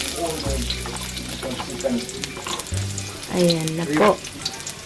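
Garlic sizzles and crackles in hot olive oil in a frying pan, a continuous loud frying hiss with a few brief spoken words over it.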